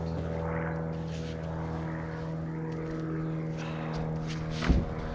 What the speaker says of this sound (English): Wait for the plane to fly over.